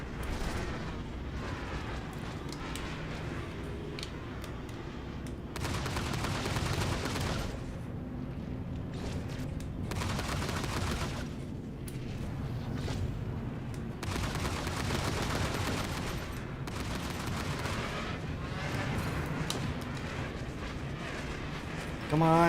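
Gunfire hammering ship shields in a space video game, a sustained roar of rapid shots and impacts layered over a rumbling engine drone, with a voice speaking over it.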